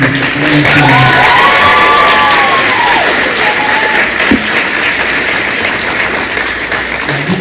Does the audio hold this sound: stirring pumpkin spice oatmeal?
no